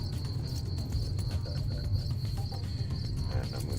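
Dense, steady chorus of crickets chirping continuously throughout, a constant high-pitched trill over a low rumbling background, with no voices present.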